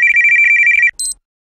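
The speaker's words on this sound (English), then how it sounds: "Oh wait, I have a phone call." A phone rings with a steady electronic trill for under a second, followed by a brief high tone, then silence.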